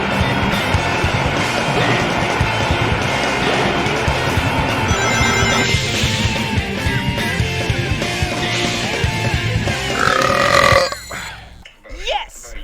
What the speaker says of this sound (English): I just had a burp, bro.